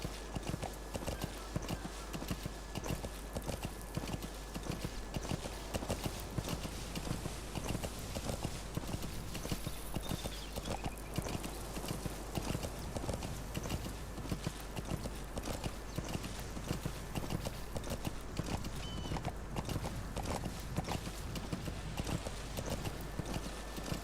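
D-Horse from the video game Metal Gear Solid V galloping, a steady rapid clip-clop of hooves running continuously over a low constant hum, with no talk.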